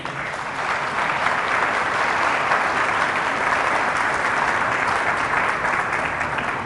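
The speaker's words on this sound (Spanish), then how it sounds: "Fuertes aplausos a Jesús." Church congregation applauding loudly, a dense, steady wall of clapping from many hands that holds evenly throughout with no talk over it.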